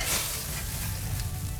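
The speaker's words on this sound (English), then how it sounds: "You can see they're boiling in there, they're pretty hot." Live oysters grilling over an open flame, sizzling and bubbling hot in their shells, a steady close crackling hiss with no voices.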